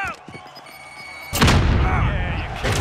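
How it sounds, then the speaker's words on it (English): A Semtex grenade detonates in Warzone gameplay, a sudden loud boom that cuts in partway through and rolls into a sustained rumble after quieter game sounds. "I used the Semtex."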